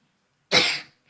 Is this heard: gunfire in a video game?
no